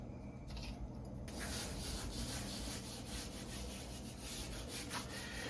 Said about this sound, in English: I am going to rub it into the meat.